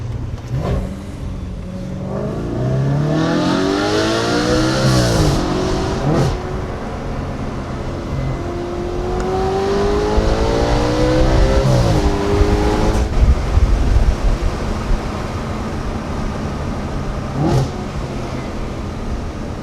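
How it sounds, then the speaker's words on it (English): A performance road car in manual mode accelerates hard, its engine note climbing and then dropping at each upshift through several gears. The sound is loud, close and continuous. "put it in manual mode and start rowing through the gears"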